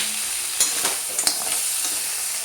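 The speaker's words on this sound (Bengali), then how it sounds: "কাঁকড়াগুলো খুব ভালো করে ভাজা হয়ে গেছে" Crabs frying in a pan, a steady hiss of hot oil broken by several sharp crackles and stirring scrapes.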